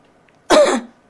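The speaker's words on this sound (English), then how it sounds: "See how you're coughing right now." A single short, harsh throat clearing or cough, close and loud, standing alone against near silence.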